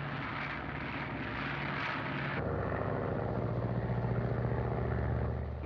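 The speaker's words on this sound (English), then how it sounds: "The plane is now under radio control from the board here." A radio-controlled airplane's engine drones steadily in a colorized 1937 film, a continuous buzzing roar that shifts pitch abruptly partway through and then holds level.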